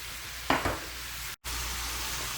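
Ground beef sizzling in a frying pan as it starts to cook, a steady soft hiss with a brief scraping stir near the start and a momentary dropout.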